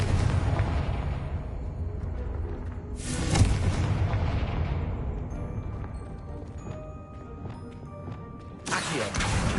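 Confringo fire spell in Hogwarts Legacy bursting with loud booming explosions, a heavy blast near the start, another around three seconds and a final one at the end, each trailing into a rumbling, crackling decay with no talk.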